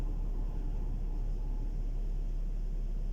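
Storm wind heard from a parked car during a February snowstorm in Altai Krai, a steady, loud broadband roar and hiss with heavy low rumble and no pauses.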